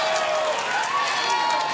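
A World's Strongest Man crowd cheering and applauding at the stone event: a dense, continuous roar of applause and shouting with a whistle-like tone rising through it, with no break across the short span.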